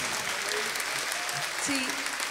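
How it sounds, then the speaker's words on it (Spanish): Outdoor concert crowd at a beat music tribute show in a rose garden giving steady, dense applause, with faint shouts and a voice rising briefly through the clapping. "Un aplauso"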